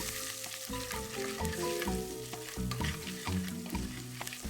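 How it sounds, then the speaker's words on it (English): Turmeric, coriander powder, grated ginger and chopped green chilli fry in a pan for moong dal badi sabji, a close sizzle broken by rhythmic scraping stirs, no talking. "Give this a stir."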